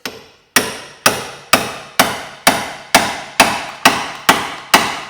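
Hammer striking a car suspension part between the lower arm and the hub on a Vauxhall Corsa, ten sharp, evenly spaced metallic blows about half a second apart, each ringing briefly, loud and close with no talking.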